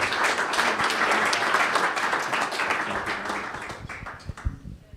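Audience applause welcoming a speaker at a conference in the Netherlands: a full, loud crowd clapping that holds steady, then thins into scattered individual claps and fades out.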